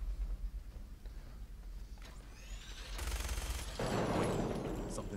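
Gunfire in Fallout 4: a quiet stretch gives way to a burst of shots near the three-second mark, then a louder, denser barrage that carries on to the end with no talk over it.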